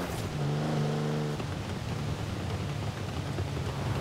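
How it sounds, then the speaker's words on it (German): A Toyota 2000GT in the Forza Horizon 4 racing game revs sharply at first, then settles into a steady, droning engine note with no talking. "Ich feiere ja Auspuffgeböller. Der 2000 GT ist ja ein neues Meisterwerk in Forza."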